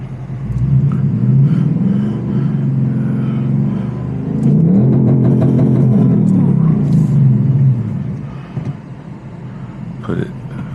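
A 2025 Ford Mustang Dark Horse with a 500 hp V8 rumbles and revs loudly for about eight seconds in a steady, deep drone, then eases off into quieter, uneven engine noise with a few brief bumps.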